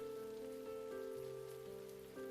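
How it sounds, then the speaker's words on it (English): Rain patters steadily on a surface outside a café, a soft continuous wash layered under sustained tonal music with no voices. "listening to the pitter-patter of the rain"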